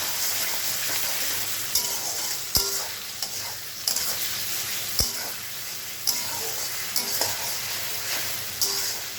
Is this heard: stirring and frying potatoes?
yes